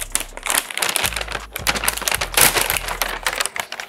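Close, loud rustling and crinkling of a plastic delivery bag holding sushi rolls, in irregular bursts over a few seconds with a low thumping underneath.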